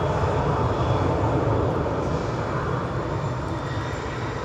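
A Ryanair Boeing 737 MAX 8200 jet rolls off runway 05 right at Manchester Airport, its engines giving a steady, fairly loud broadband rumble and hiss that eases slightly toward the end, with no talking.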